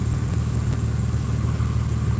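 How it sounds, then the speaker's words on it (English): Loud, steady engine drone and low rumble inside a moving car, constant and close with no voices. "Please excuse the loudness in this car. This car is loud."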